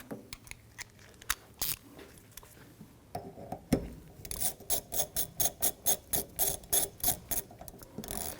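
A nut is tightened onto the rear wiper arm of a 2007–2017 Jeep Patriot with a ratchet, giving a few scattered clicks and then a quick, regular series of sharp ratcheting clicks, close and clear.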